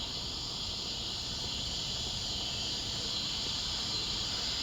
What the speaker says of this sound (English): I'm gonna listen for the tinkling ground cricket and see if it's still there.